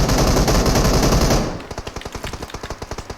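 Vector gun firing in a video game: a loud continuous burst of automatic fire, then a faster string of distinct rapid shots.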